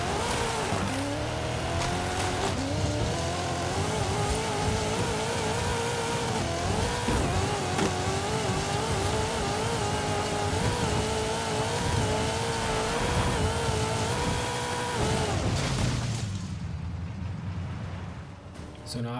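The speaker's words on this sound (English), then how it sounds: "in the next step we're going to be taking the car down to the beach" Engine of a widebody 2019 Subaru STI S209 in Forza Horizon 5, driven on a beach, hums loud and steady with gear shifts and a long sustained drone, then fades out near the end.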